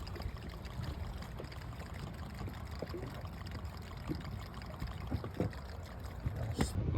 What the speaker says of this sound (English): You can hear their bubbles from all their air escaping.